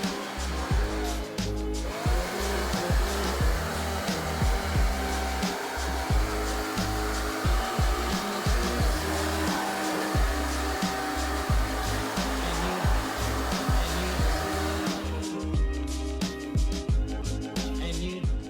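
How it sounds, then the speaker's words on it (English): Compressed-air leaf blower roaring steadily while blasting thick layers of dust off a car in a garage, a loud continuous whoosh that runs nearly unbroken before cutting off near the end, with a faint voice briefly underneath. "I'm gonna go ahead and have our leaf blower, air blower, whatever you want to call it, and blow off all the dust off of here"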